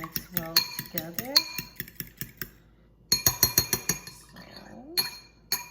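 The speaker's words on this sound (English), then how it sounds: "I'm just gonna use a fork and just whisk it till the egg yolk and the yolk are mixed well together" Two eggs being whisked with a fork in a bowl, heard as rapid, rhythmic clinking taps of the fork against the bowl in two bursts with a short pause between them, close and bright, with a voice talking in between.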